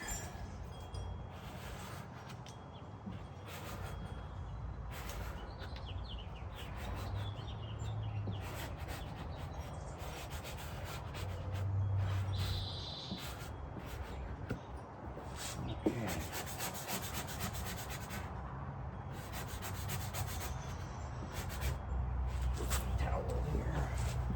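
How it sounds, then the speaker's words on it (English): A squeegee presses a vinyl racing stripe onto a Mach-E GT, giving repeated soft rubbing and squeaking strokes against the car body at close range, with faint talk and background noise around them. "where's my squeegee? I want to at least get the bottom stuck"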